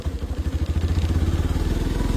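A motorcycle on a ride near a waterfall by the Bawli dam in Igatpuri, its engine thudding in a rapid steady pulse, loud and close throughout.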